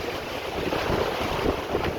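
Strong wind buffeting the microphone on a rainy Atlantic coast with wild water, a loud continuous rumbling roar with gusty swells, waves churning underneath and no voices.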